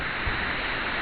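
Rain arriving during a summer thunderstorm at Vougy, a steady broadband hiss of falling water, close and continuous with a slight swell, no voices.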